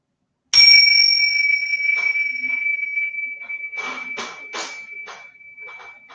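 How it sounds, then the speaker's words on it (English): A bell struck once with a sudden bright ring that sustains and slowly fades over several seconds, followed by a few softer clinks and taps of additional bells. "I'm just going to use these bells to bring us into presence"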